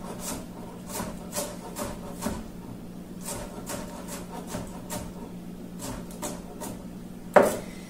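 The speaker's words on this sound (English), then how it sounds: "There's lots of ways to chop onions, so don't worry if you're not doing it the same way that I'm demonstrating." A CUTCO kitchen knife chops onions on a cutting board in a home kitchen, with steady, evenly spaced close taps of the blade and one sharper knock near the end.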